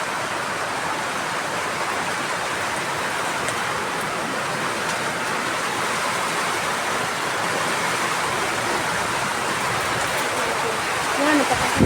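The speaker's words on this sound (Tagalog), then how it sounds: "May ulan." Heavy rain pouring down outdoors, a steady dense hiss that stays loud and even throughout, with a slight swell near the end.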